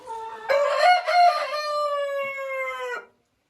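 A rooster crows once, loud and close, in a chicken coop on a rainy day, a long drawn-out call that ends abruptly into silence.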